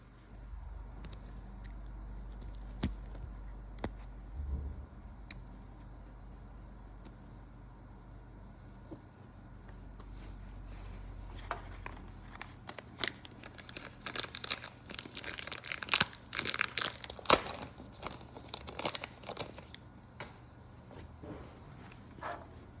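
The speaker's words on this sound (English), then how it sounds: "So we just simply cut this sleeve off using a knife and then slip the other sleeve on." A knife slicing and tearing through an old foam roller sleeve to remove it, heard as close crinkling, ripping and crunching bursts that grow denser and louder in the second half over a low background hum.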